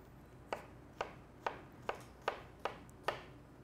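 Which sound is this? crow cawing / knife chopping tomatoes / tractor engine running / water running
knife chopping tomatoes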